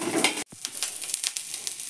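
Onions frying in a pan for a Mangalore-style chicken dry crackle and sizzle close up, with a short break where they are stirred before the frying picks up again.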